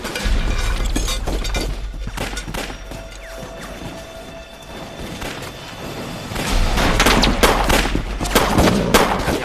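Gunfire in a war drama battle scene, dense crackling rifle and machine-gun fire in loud sustained volleys over a deep rumble, easing briefly in the middle before building up again.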